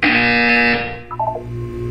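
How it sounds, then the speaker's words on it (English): A loud, sustained electronic buzzer from the video game Portal 2 blares for under a second, then breaks into a short series of lower stuttering tones. "You will hear a buzzer."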